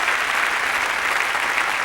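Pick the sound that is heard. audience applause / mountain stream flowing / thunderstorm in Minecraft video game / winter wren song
audience applause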